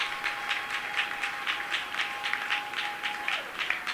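A church congregation applauds during a sermon on the Holy Spirit, a brisk run of rhythmic clapping in unison that is fairly close and steady, with a faint sustained tone running beneath.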